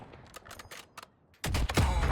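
Bursts of rapid gunfire crackle in quick sequence in the video game Call of Duty: Warzone, growing louder and denser toward the end, with sharp mechanical clatter between shots.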